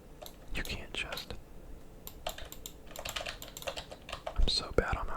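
Computer keyboard clacks away in quick irregular bursts during an Apex Legends match, close and crisp, with faint whispered talk and game sounds underneath.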